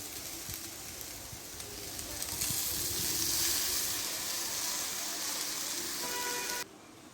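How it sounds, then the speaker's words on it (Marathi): Puffed rice (murmure) goes into a hot wok, giving a soft, steady sizzle and rustle that swells slightly and then cuts off near the end, faint and without talk. "आता ॲड करतोय आम्ही मुरमुरे कढईमध्ये"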